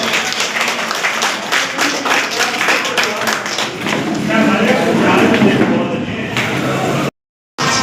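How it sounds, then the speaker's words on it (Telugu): A crowd claps in dense, sustained applause at a hospital award ceremony, swelling in the middle, with voices faintly underneath, then a brief silence. "రామాంజనేయులు గారిని కూడా ఎమ్మెల్యే సార్ గారు క్లాప్స్ ఇస్తారు"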